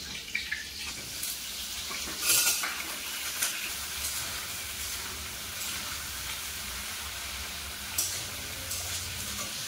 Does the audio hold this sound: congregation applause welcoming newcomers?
no